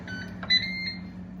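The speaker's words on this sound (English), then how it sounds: "our timer is just about to go off" A microwave oven timer beeps as a pasta meal finishes cooking, a short, high electronic tone sounding briefly over a low steady hum, with no talk.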